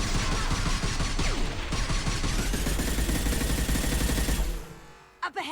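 Dense, continuous gunfire from guards in the video game Mass Effect 2, a loud rattling barrage of rapid shots layered with impacts, cutting off abruptly into a few scattered sharp hits.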